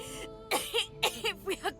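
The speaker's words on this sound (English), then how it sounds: "She stops mid-shout, descending into a fit of coughing, wheezing, and groaning." A woman's fit of coughing and wheezing in the video game Divinity Original Sin 2: five or six harsh, closely spaced coughs with throaty, strained edges, loud and near, rising out of a quiet background.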